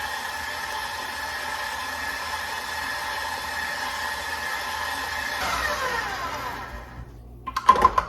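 An electric mixer beats sour cream and eggs into cinnamon bun cheesecake batter, a loud steady motor whir that holds for several seconds, then cuts off and leaves a few clinks at the end, with no talking.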